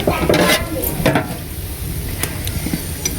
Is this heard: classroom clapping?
no